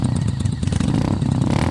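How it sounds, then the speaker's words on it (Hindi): Motorcycle engine running steadily up close, a dense low rumble with rapid firing pulses, heard on a night road through a forest, loud and continuous without speech. "अपनी बाइक से अपने घर आ रहा था।"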